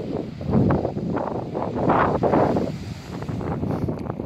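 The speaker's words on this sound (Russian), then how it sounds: "Шум волны." Gentle waves wash against the shore of a calm sea at sunset on Sakhalin, soft rolling surges rising and falling several times, mixed with light wind noise on the microphone.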